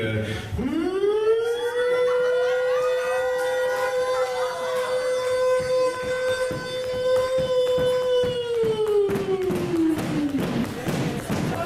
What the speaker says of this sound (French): nous avons allongé notre sirène de quelques minutes de trop